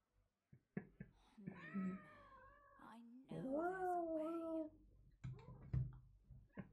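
A domestic cat meows repeatedly at close range in drawn-out, wavering calls, while a person talks softly between and over the meows.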